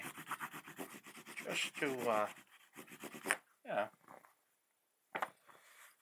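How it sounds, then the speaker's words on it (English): A burnishing tool rubs in short scraping strokes across the back of a wooden buttstock cover for an 1866 Yellow Boy Winchester rifle. The strokes are close and fairly quiet, with brief talk between them. "I'm just going to hit the back with a burnishing tool."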